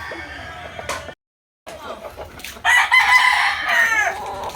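A gamecock rooster crows loudly and close by, a long drawn-out call with a strained rising tone, with clucking and farmyard noise around it.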